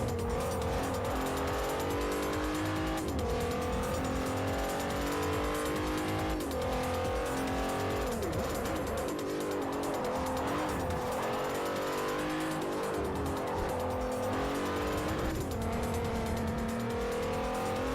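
A 3.0-litre race car in Forza Motorsport 4 screams near its 8,000 rpm limit, engine pitch climbing and dropping through repeated gear changes, with brief tire squeal as it understeers and runs over a curb.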